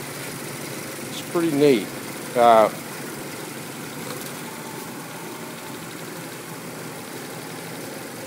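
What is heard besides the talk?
Toyota 3SGE Blacktop engine idling in Triumph TR3A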